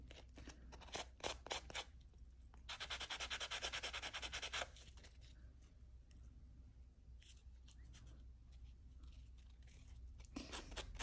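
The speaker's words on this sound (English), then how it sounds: "the polishing is the most annoying part" Copper jewelry being polished by hand, a steady gritty rubbing and scraping with bursts of brisk strokes, close and fairly quiet, with no talking.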